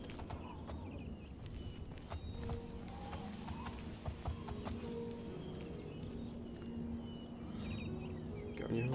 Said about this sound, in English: riding the horse down this path